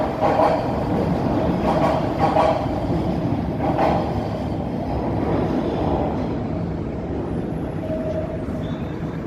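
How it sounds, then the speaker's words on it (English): A Toronto subway train rumbles past in an outdoor city setting, a steady, fairly loud low roar that persists throughout with slight swells, heard from some distance without any talk. "You can hear the subway."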